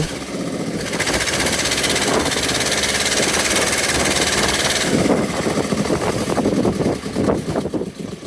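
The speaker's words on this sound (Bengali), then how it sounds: "এখন আমাদের ট্রলারের ইঞ্জিনটি চালু করা হয়ে গিয়েছে" A fishing trawler's engine runs at sea in a storm on the Bay of Bengal. The motor throbs and rumbles steadily and loudly, close by, with rough churning and vibration throughout.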